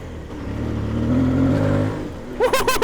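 Close by, an Aprilia Tuareg 660 motorcycle on a new Tractionator RallZ tire revs hard along a Colorado desert trail, the engine note climbing steadily. A whooping voice breaks in over the fading engine.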